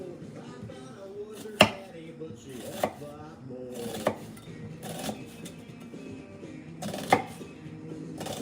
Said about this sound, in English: I'm so awkward when I cut onions too.